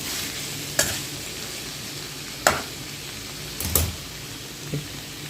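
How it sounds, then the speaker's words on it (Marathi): Brinjals roast and sizzle in a thick-bottomed kadhai, giving a soft, steady frying hiss that is broken by a few sharp scrapes and clinks from stirring. "वांगी छान भाजले बघा"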